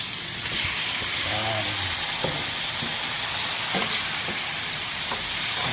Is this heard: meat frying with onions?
yes